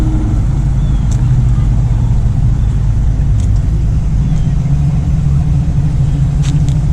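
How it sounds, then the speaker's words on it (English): A Corvette fitted with side pipes rumbles at a cruise-in car show, a loud, steady low exhaust burble held close throughout with faint background activity. "Corvette got the side pipes on."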